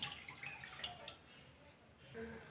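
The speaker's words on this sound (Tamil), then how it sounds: "1 கப்பு தண்ணி சேர்க்குறேன்." A cup of water is poured into a mix while rice flour button murukku is prepared in a home kitchen. The trickling and dripping splashes are faint and uneven, with soft background noise.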